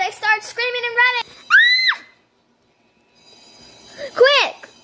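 Characters scream in panic in a Roblox vacation story aboard a craft whose engine has caught fire: shrill rising and falling cries come in bursts, a short silence follows, then another high wail.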